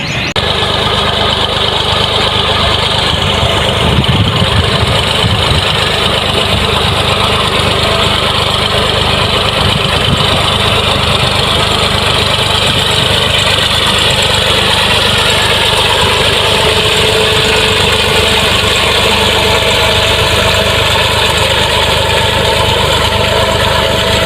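A small 240 tractor engine idles loudly and steadily nearby, a continuous low mechanical rumble with no pauses.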